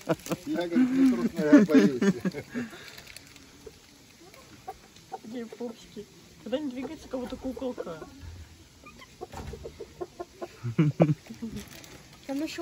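A rooster at a rural holy-spring complex in southern Russia clucks in short bursts, close by and in the open, while people talk over and between the calls.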